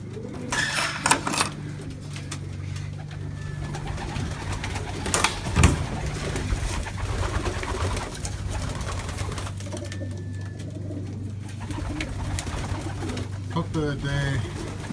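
Pigeons coo softly and repeatedly over a steady low hum, with occasional clatter and faint background voices.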